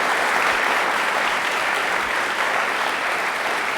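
A university audience at a televised question-and-answer event breaks into loud, dense, sustained applause that holds steady throughout with no break.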